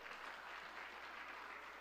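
An audience at an evangelical church campaign applauds, a dense and fairly faint patter of clapping heard briefly and steadily.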